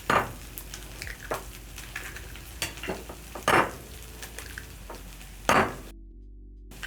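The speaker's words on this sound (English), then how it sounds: "I'm going to add in eggs." Eggs added to a pan where spinach is cooking give a soft sizzle, with scattered clinks and scrapes of a utensil against the pan, fairly quiet and without speech.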